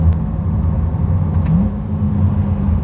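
A 2020 Chevrolet Corvette C8 with a mid-mounted engine and dual-clutch transmission accelerating hard, a steady loud engine rumble heard from inside the cabin, with no talk over it.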